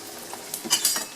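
Cabbage with turmeric frying in a pan, stirred with a utensil: a brief close run of scraping clinks and stirring over a soft sizzle, with no talking.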